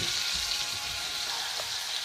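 A steak in rosemary garlic butter sizzling steadily in a frying pan, a loud continuous hiss and crackle close up, with no talking.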